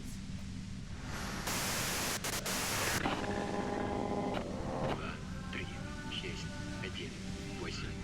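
A harsh burst of white-noise static from the Disco Elysium video game cuts in for about a second and a half over a low ambient bed, followed by soft tonal game sounds.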